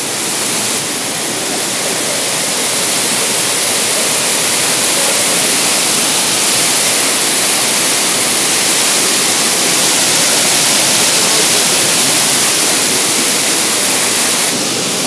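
A waterfall pours down as a wall of crashing water, making a dense, unbroken roar that stays loud and close for the whole stretch, with no voices over it.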